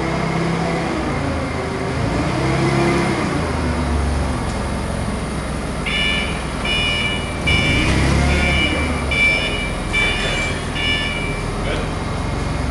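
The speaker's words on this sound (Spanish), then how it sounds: "Esto puede andar hacia adelante, hacia atrás, subirlo, bajarlo, opera correctamente." A 2001 Cat GC25K forklift with solid tires drives forward and back and raises and lowers its forks, a steady engine rumble with repeated reversing beeps, while someone talks over it.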